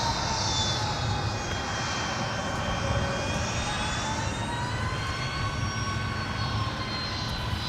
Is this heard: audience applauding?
no